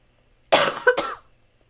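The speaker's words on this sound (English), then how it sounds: "Sorry, I think doing that voice for Agathon's what's making me cough." A single person coughs one short, sharp double cough, close and clear against near silence, with no talk.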